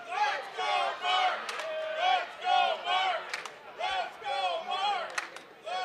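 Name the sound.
crowd chanting at a fighting championship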